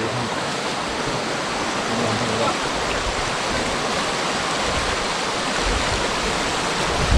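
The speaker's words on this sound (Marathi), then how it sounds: "या साईडला वाळेचं पाणी वाहत आहे जोरदार" Strong stream water flowing steadily at night during monsoon rain in a Konkan streambed, a dense broadband rush that stays constant and close throughout.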